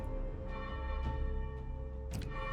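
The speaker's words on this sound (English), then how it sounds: "Enough with the bell. That ringing will get us all killed." Repeated bell ringing in the medieval zombie survival game Remore: Infested Kingdom, bright metallic strikes recurring every half second or so over a steady tonal game soundscape, fairly close and moderately loud.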